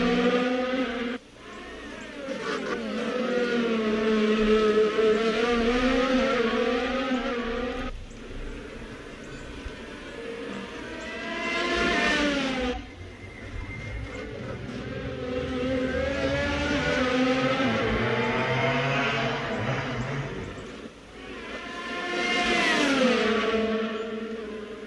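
Formula 1 cars from 2018 Brazil free practice scream past, high-pitched engines rising and falling through gear changes in long loud runs, with brief dips between passes and no speech.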